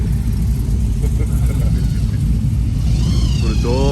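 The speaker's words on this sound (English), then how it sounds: "Listen to the whirring of these motors, the rumbling of the V8s" Hot rod V8 engines at a winter car run rumble loudly and steadily up close, with a low throbbing drone and a rising whine near the end.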